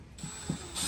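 A ratchet drives a screw back into a Milwaukee PACKOUT tool case, with a few quick close clicks of the pawl, no talk.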